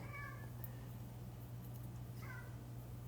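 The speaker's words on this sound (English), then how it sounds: "I got a cat thinking about climbing up here." A house cat meows twice, faint and a couple of seconds apart, over a low steady indoor hum.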